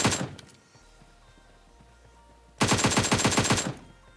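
Automatic gunfire in a shooting video game comes as a short burst at the start, then after a quiet stretch a sustained rapid volley of about a dozen loud, close shots.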